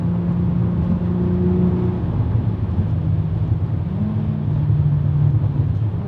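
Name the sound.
VW Golf MK5 R32 turbo car accelerating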